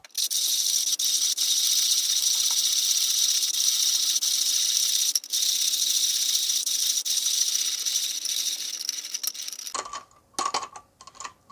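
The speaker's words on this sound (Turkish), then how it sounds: "Şimdi öğütmeye başlıyorum." A Comandante C40 hand coffee grinder, set to 10 clicks with a clear transparent jar, grinds beans in a continuous dense crunching rasp for about ten seconds, then stops with a few scattered knocks.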